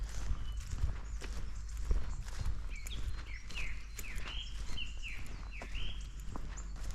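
A song thrush sings repeated bright, whistled phrases at mid distance, while footsteps crunch steadily in the foreground.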